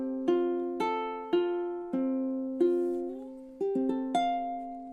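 Ukulele plucks the closing phrase of a song, six clean notes and chords ringing in sequence, with a gentle slide between pitches near the end, played solo and close.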